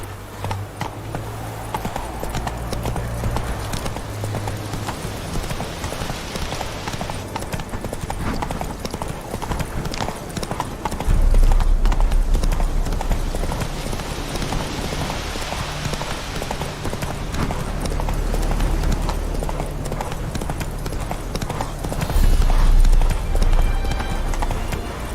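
Horse hooves clip-clop in a rapid, steady galloping rhythm in the video game The Witcher 3, continuing throughout with surges of louder hoofbeats.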